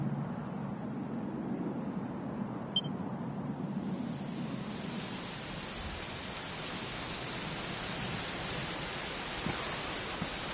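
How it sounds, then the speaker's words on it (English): Steady rain falls in the role-playing game Dragon Quest XI, a soft hiss that swells into a fuller, even downpour partway through and carries on without any voices. "You know, it was raining like this the last time I ever saw her."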